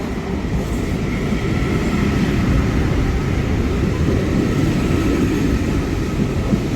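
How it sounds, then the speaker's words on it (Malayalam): The Flytoget airport express train pulls in at the Gardermoen airport station platform near Oslo. A loud, steady, close rumble of wheels and rail noise fills the whole stretch, with no talking. "പ്ലാറ്റ്ഫോമിലെത്തി 5 മിനിറ്റ് ആകുന്നതിന് മുമ്പ് തന്നെ ഫ്ലൈ ടു ഗെറ്റ് ട്രെയിൻ എത്തി"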